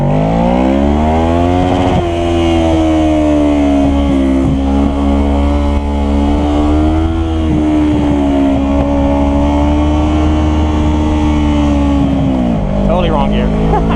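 A motorcycle ridden along a road: loud, close engine drone whose pitch rises and dips as the rider shifts gears, with a gear change near the end.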